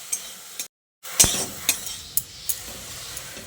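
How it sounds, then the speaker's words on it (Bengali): Drumstick flowers stirred and fried in oil give a steady sizzle broken by sharp utensil clinks against the pan, with one brief silent gap early on. "তেলের সঙ্গে এইভাবে নেড়ে চেড়ে একটু ভাজা ভাজা করে নিচ্ছি।"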